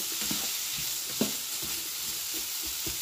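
Beyond Meat crumbles and peppers fry in a pan, giving a steady, close hiss and sizzle throughout with soft scrapes of stirring.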